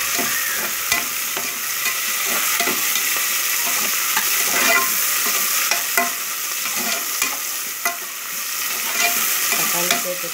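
Tomatoes and onions fry in a pan with salt while being stirred, giving a steady sizzle broken by frequent scraping and clacking strokes of the spoon, close and continuous with no talking.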